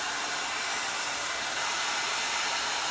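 A hair dryer brush blows hot air through hair for a round-brush blowout, a steady close whooshing hiss that holds throughout, with no talk.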